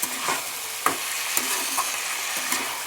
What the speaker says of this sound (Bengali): এইবার ভালোভাবে সবজিগুলোর সাথে একদম কষিয়ে নাড়াচাড়া করে নিতে হবে